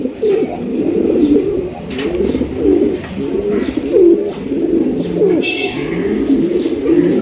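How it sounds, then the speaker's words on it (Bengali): A pair of kohl-eyed Damascene pigeons coo repeatedly at close range, their low rolling calls overlapping in a steady rhythm with no one talking. "কাজল চোখের অরিজিনাল দামাসিন কবুতর"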